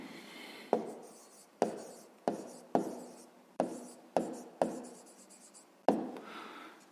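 Pen strokes on paper while writing out a fifth-grade maths solution, a series of about eight sharp taps each trailing into a brief scratching stroke, close and clear with no talking.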